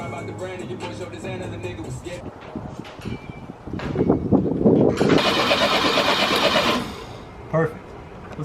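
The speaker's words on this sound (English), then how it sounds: "I wasn't expecting the starter to sound that good" The starter of a low-mileage Opel GT sitting unused for 24 years cranks for a few seconds with a loud, rapid whirring close by, then stops, amid shop noise.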